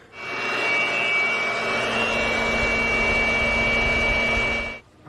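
A miniature battery leaf blower with a flow-restricting nozzle fitted runs in one steady burst of about five seconds, giving a close, loud whooshing roar with a high motor whine, starting and cutting off abruptly.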